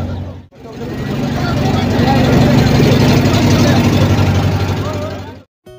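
A boat's engine revs up as the boat pulls away, a loud, steady low rumble with droning tones that swells after a brief cut and holds before dropping out.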